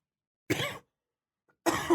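Two separate coughs from one person, close and fairly loud, with a second of silence between them.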